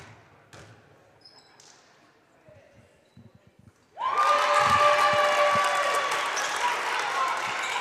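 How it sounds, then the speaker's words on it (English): At a girls' basketball national third-place game, a quiet gym with light ball and shoe sounds gives way halfway through to a loud, sustained roar from the Niagara Prep cheering section, with yelling and held shrill tones. "The Niagara Prep cheering section in full effect."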